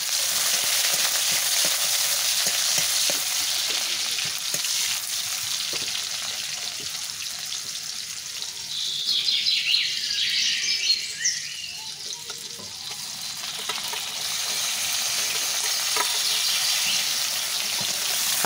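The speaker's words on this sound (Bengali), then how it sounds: "তেলের মধ্যে দিয়ে দিলাম পেঁয়াজ কুচি" Chopped onion dropped into hot oil in a wok after frying fish, giving a steady, close sizzle that swells briefly with a brighter crackle midway, then settles back to an even hiss.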